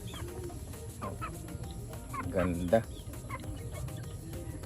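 A Kanawayon hen clucks in short, irregular bursts nearby, with a louder squawk near the middle, over a low background hum and a brief spoken word.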